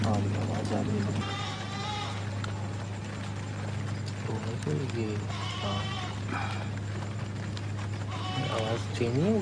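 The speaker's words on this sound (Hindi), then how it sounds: "बकरी की आवाज़" A goat bleats several times at a distance over a steady low hum and rain-damp outdoor ambience, with people talking nearby between and over the calls.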